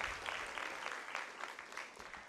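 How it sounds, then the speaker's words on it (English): An audience at a Nairobi regional school debate knockout between girls' schools gives a faint, distant round of applause, steady clapping that slowly fades. "A round of applause for Mount Laverna."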